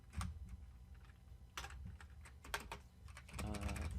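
Code typed on a computer keyboard in quick irregular bursts of key clicks, recorded fairly quietly, with some low rumble in the background.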